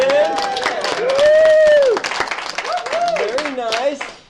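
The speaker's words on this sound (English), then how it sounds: "offer up a round of applause for our Wetmore folks for giving us such great chairs to sit in" A brief round of applause breaks out at a Custer County, Colorado commissioners' meeting: scattered clapping close by, mixed with excited voices and a cheer.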